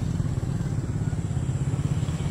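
A motorcycle with a loud aftermarket exhaust idles with a low, rapid, throbbing rumble, close and steady throughout.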